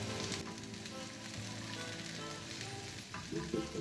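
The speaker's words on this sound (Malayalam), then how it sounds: "കടുക് പൊട്ടി വരുന്നുണ്ട്." Oil sizzles steadily in a pan over medium heat as mustard seeds pop and shallots fry, with a few brief clinks and stirring sounds near the end.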